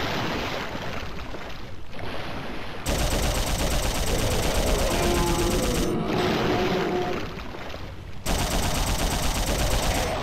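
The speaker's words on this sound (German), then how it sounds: "Ach ja, ich schieße damit noch ein bisschen rum." Dense, continuous gunfire from the video game Dino Crisis 2, loud bursts of rapid shots that drop out briefly twice and resume, with no talking.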